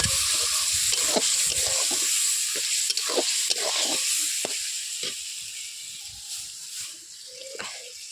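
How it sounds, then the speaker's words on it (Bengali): Beef sautéing with ginger-garlic paste in a pot, a steady hissing sizzle with frequent sharp stirring scrapes and knocks, close and loud, easing slightly toward the end. "কষানো হয়ে গেছে, আদা রসুন দিয়ে কষানো হয়ে গেছে"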